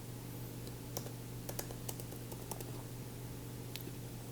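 Keys clack sparsely on a computer keyboard while a password is entered, a handful of sharp taps spread unevenly over a steady low electrical hum in a quiet room.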